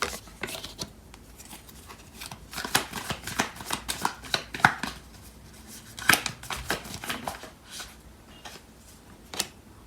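Tarot cards riffle and shuffle in a quiet indoor setting, with repeated soft bursts of papery flicking and tapping arriving in irregular clusters and no talk.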